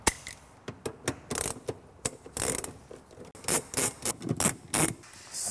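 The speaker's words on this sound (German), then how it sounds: "dann können wir den hier vorne mit einem 50er Torx rausmachen" Torx T50 bolts being undone from the front seat mounting of a BMW 5 Series G30, giving a run of close, short metallic ratchet clicks and clanks in irregular bursts with brief pauses between.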